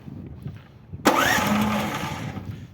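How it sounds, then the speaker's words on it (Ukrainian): Petrol engine of a KENTAVR 15G mini tractor cranks and catches with a sudden loud burst, then keeps running as a steady close rumble that slowly settles. "Якщо холодний, оскільки це бензин, закриваємо, заводимо, відкриваємо."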